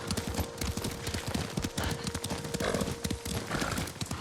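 Steady rhythmic clip-clop of horse hooves at a trot in Ghost of Tsushima, close and continuous, with a brief whinny partway through over a dense outdoor background.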